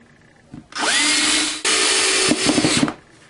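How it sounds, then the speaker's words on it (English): A power drill drives a 1/2 inch screw into wood, whining loudly in two long continuous bursts with a brief pause between, ending in a few stuttering pulses as the screw seats, close and alone. "I'm going to take one of my 1/2 inch screws and screw it in."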